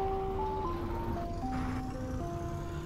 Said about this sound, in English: I think the truck got stuck.